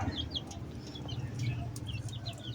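Chickens cluck and chirp in short bursts over a low, steady background hum, fairly close and continuous.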